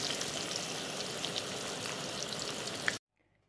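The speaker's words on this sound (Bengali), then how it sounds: "এবার কয়েকটা আলু ভাজা করে দেবো" Potato slices fry in hot oil with a dense, steady sizzle that runs for about three seconds, then cuts off abruptly to near silence.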